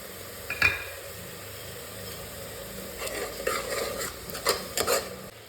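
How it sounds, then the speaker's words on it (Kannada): Coriander, mint and green chilli masala paste cooking in a pan, with a low steady sizzle and a few sharp metallic knocks and scrapes from a spoon against the pan, close and fairly quiet. "ಫಸ್ಟು ಕೊತ್ತಂಬರಿ, ಪುದೀನ, ಮೆಣಸಿನ್ಕಾಯಿ ಹಾಕಿರೋ ಮಸಾಲ ಆ್ಯಡ್ ಮಾಡಿ ಒಂದು 5 ಮಿನಿಟ್ಸ್ ಚೆನ್ನಾಗಿ ಬೇಯಿಸೋಣ."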